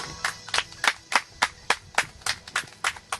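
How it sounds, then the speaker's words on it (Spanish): Congregation in a church clapping together in a steady rhythmic beat, about eleven sharp, evenly spaced claps in a row, close and clear with no talk over them. "Démosle un aplauso a Jesucristo, al Padre."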